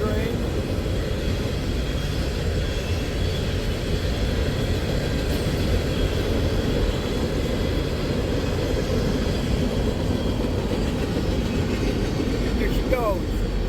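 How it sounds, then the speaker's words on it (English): A long, empty coal freight train rolls past close by, a steady loud rumbling roar with clattering wheels that holds constant throughout. "Comes into this empty coal train."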